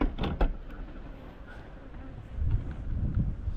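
Honey bees buzz around a hive as supers are returned for cleaning, a faint, wavering drone with a few close passes by single insects.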